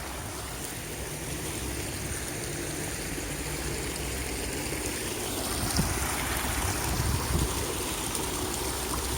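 The Bannock Burn near Stirling flows steadily past fallen trees, a continuous broadband rush of moving water that stays even and fairly loud throughout, swelling slightly toward the end, with no voices.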